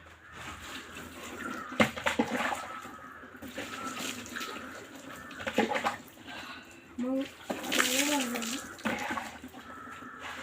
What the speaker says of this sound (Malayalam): ഞാൻ കുറച്ച് വെള്ളം നിറച്ചിട്ടെ